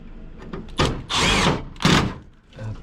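A power drill drives screws out of an LG Multi V indoor HVAC unit. It whirs loudly and up close in several strong bursts with short pauses between them.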